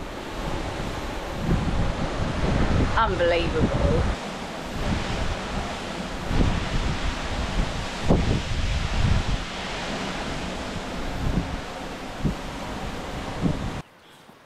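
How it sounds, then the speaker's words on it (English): A Swiss waterfall plunging down a sheer cliff face, heard from directly underneath as a loud, continuous broadband roar that never lets up, briefly overlaid by a single spoken exclamation before cutting off abruptly. "We're standing underneath this waterfall on the sheer drop cliff valley face."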